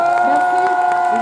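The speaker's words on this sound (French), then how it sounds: "Applaudissez." Audience at a Rennes geek convention event cheering and clapping, a brief dense burst of crowd noise with shouts and whoops.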